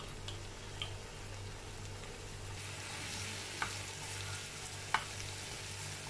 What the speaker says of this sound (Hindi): ये मैंने बटर के साथ इसको कर रही हूँ फ्राई